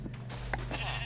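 A single short sheep bleat from the video game Minecraft, close and clear over a low steady background hum, lasting about a second.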